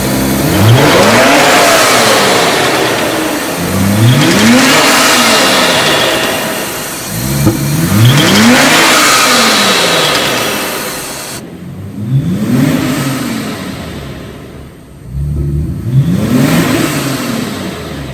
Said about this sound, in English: I'm gonna put the car on and let you hear her.